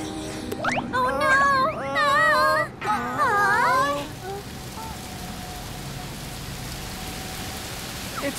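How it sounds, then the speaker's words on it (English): Steady rain from about four seconds on in an animated children's cartoon, a broadband hiss that swells after cheerful talk and singing fades, continuing evenly and fairly loud to the end. "It's raining harder."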